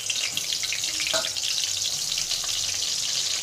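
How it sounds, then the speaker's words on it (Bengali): Eggplant frying in hot oil, a dense, steady crackling sizzle close up with a few small pops and no voices. "দিয়ে দিই তেলে বেগুন ভাজিটা"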